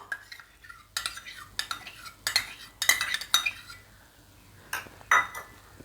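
A spoon clinks and scrapes in a bowl while curd is stirred into ground chutney for a bread omelette, a series of sharp metallic taps and stirring strokes, close and fairly quiet, with no talking.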